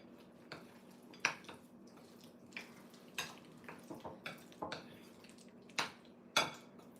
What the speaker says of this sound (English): I'm just going to give it a stir.